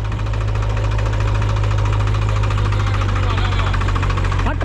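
An Eicher 551 tractor engine labours hard under load, a loud continuous diesel drone with knocking pulses and steady vibration, close by and filling the whole clip.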